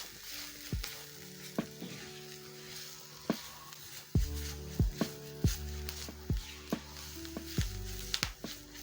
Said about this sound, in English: I'm going to add my spices in, and then I'm going to break my seasoning cube in the pan.